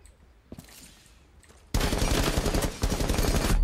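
Rapid bursts of Rainbow Six Siege gunfire erupt loudly after a few quiet moments, a dense sustained volley of shots.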